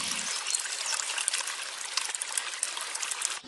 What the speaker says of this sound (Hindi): वे खालिस दूध में पानी मिलाकर उसे 4 बाल्टी कर देता है।